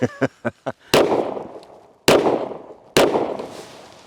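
Walther PDP Match pistol firing three loud, sharp gunshots spaced about a second apart, each with a decaying echo, after a few quieter clicks.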